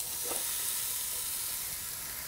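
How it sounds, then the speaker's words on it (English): Seasoned flat iron steaks sizzle on a George Foreman grill, a loud, continuous frying hiss that stays even throughout with no talking. "You already hear a good sizzle."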